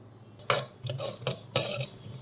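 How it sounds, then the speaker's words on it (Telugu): Sesame seeds being fried in a pan until reddish, stirred close up with a utensil: a few sharp scraping strokes against the metal, each followed by a softer rustle of seeds shifting, with quiet gaps between. "నువ్వులు ఫ్రై చేసుకుందాం"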